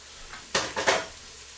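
Green onions and garlic hitting a hot pan for homemade chili, two quick bursts of sizzle and stirring clatter over a faint, quiet background.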